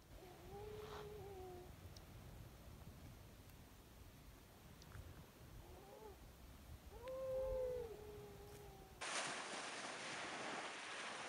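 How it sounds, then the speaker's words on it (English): Seals on Sable Island howling in the distance, faint drawn-out wavering cries that rise and fall over steady surf and wind, with a cluster of overlapping calls near the middle. "the seals are making a ton of noise right now"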